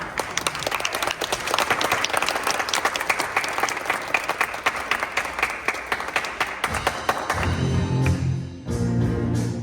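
Audience applause and cheering for live music performers at an anniversary celebration show, loud and sustained for several seconds, then fading as instruments begin to play.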